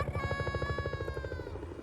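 A helicopter in an animated cartoon, its rotor chopping in a fast steady pulse with a whining engine tone, close and continuous.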